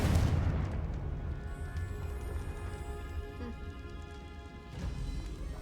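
A Confringo fire spell in Hogwarts Legacy gives a loud, booming explosion at the start that rumbles off into a lingering, ringing tail, with a second, softer burst near the end.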